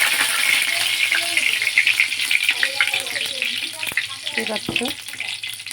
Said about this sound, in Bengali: আমি তেলটা কিন্তু গরম হয়ে গেছে। আমি এখানে কয়েকটা তেজপাতা দিয়ে দেবো।